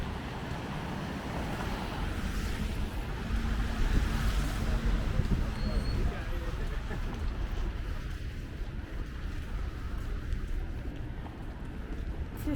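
Wind roars and sea waves wash steadily along the snowy Helsinki waterfront in December, forming a loud, constant rush with gusts buffeting the microphone.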